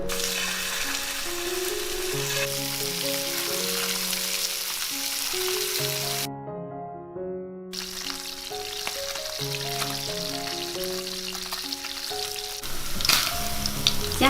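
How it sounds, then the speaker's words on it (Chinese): Fish belly pan-fries in hot oil, giving a continuous close sizzle and crackle that runs without a break. Background music plays over it and nobody speaks. "然后我们就可以来起锅，把鱼煎到金黄"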